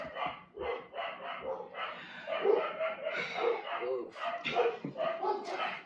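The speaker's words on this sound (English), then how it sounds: "cooking with barking dogs" Dogs barking and yipping excitedly indoors during home cooking of French onion soup, repeated overlapping barks filling the whole stretch alongside some speech.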